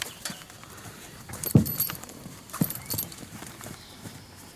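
Horse hooves clop on hard ground in a few scattered steps, close by, with quiet background noise and no talking.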